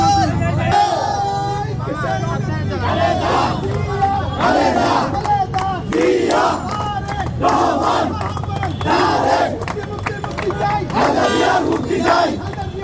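A large crowd at a political rally chants slogans in unison, loud and continuous, with repeated rhythmic shouted phrases over a steady background roar for the whole stretch.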